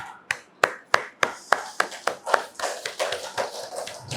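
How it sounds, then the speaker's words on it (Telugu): Claps ring out at the close of a group meditation session at a workshop in Vijayawada, starting as about eight sharp, evenly spaced claps and then spreading into a looser, softer patter from the group. "Claps to the meditation."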